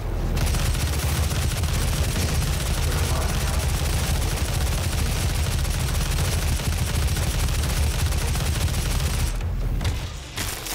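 Sustained automatic gunfire from a weapon in the video game DOOM, in the Foundry level, roars as a loud, dense, continuous stream of rapid shots before cutting off abruptly near the end.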